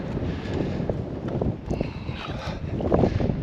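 Wind gusts buffet a fishing boat at sea in the Bristol Channel near Bendricks Rock. The rough, rumbling blasts rise and fall close to the microphone, with faint knocks and splashes.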